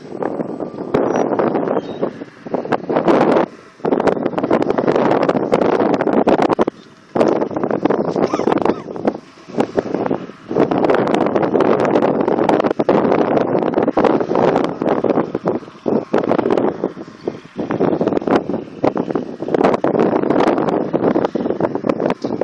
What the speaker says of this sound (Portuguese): O vento ficou forte na hora errada.